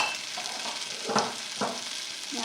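Crushed peppers hit a hot fajita pan with a steady, bright sizzle, broken by two louder crackling bursts as the food spatters, with no voices.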